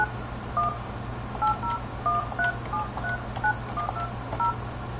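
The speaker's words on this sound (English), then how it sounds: "The phone system's actively dialing outbound." An Avaya 9611 IP desk phone dials an outbound number, giving a quick run of about a dozen short two-tone DTMF beeps in an uneven keypad rhythm, clear and close, with no talk.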